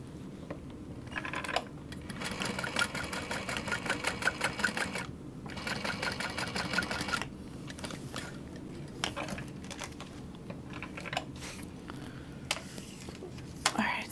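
A sewing machine stitches down the sides of a Linda Sling in several long runs of rapid mechanical clatter, broken by short pauses, close and steady, with quiet handling noises between runs.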